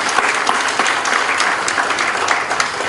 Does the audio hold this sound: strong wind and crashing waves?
no